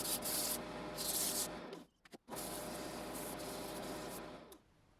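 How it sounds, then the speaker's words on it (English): Sandpaper held against a wooden chisel handle spinning on a lathe gives a close, steady rubbing hiss that stops briefly midway, then resumes and fades out. "Sand until satisfied."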